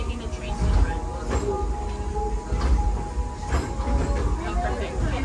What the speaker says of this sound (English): welcome aboard the Disneyland Railroad